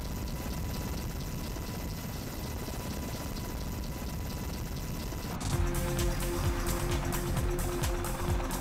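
An Apache Longbow combat helicopter drones steadily with a dense rotor and engine roar, then a sharper, brighter engine whine with strong tonal hum cuts in partway through, loud and near with no talk.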